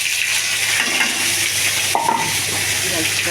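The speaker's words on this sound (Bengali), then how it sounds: "তেজপাতাটা দিয়েছি তেলে।" A bay leaf sizzles in hot oil in a pan, a steady bright frying hiss running throughout with a faint clink of utensil partway, and a voice speaks softly over it.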